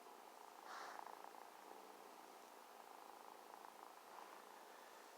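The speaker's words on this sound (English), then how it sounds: "you can hear him still with his little purr" A cat purrs softly and steadily while lying on a person, a faint continuous rumble with slight swells, alone with no talking.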